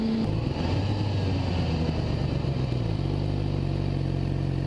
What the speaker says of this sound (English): I'm fluent in Gixxer gear shifting.